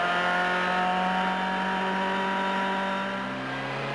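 Onboard a CART Indy car at Laguna Seca in 1996, running slowly behind the pace car: a steady, loud engine drone with layered harmonics and little variation, easing slightly in pitch near the end, with no talk.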